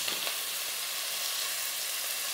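Onions braising in a pan for a mutton curry, giving a steady, close, soft sizzle and hiss with no talking.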